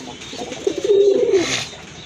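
A white pigeon gives a single close, low coo that swells and fades over about a second against a quiet background.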